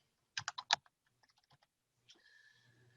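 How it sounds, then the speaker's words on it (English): Someone types on a computer keyboard in a quiet room, with a quick run of distinct key clicks and then softer scattered taps, followed by a faint whir. "I'm going to type in here"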